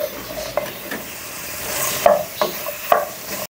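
Onion and capsicum cooking over a full flame, with a soft steady sizzle broken by a few sharp scrapes and clinks of a spatula stirring in the pan, close and alone.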